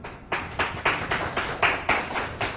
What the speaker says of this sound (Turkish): Onlar için bir alkış gelsin.